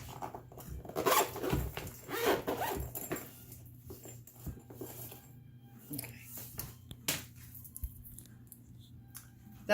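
A zipper runs in several bursts as a dental device case is closed, with rasping pulls in the first few seconds followed by quieter fumbling and clicks against low background noise.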